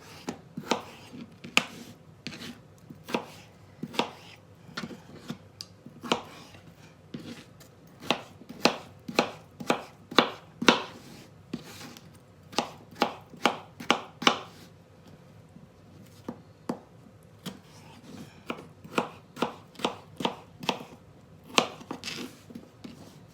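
A knife chops food on a cutting board in quick, sharp taps, arriving in bursts of steady rhythm with short pauses between runs, close and clear with no talking.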